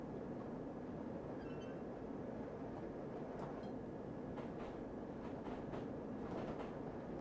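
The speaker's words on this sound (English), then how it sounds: "Oh look, and there's a overground train sharing a track with." An overground train on a shared track in Train Simulator 2020, running on the West Coast Main Line near the Bakerloo Line, gives a steady low rumble with faint intermittent squeals and clicks, quiet and continuous.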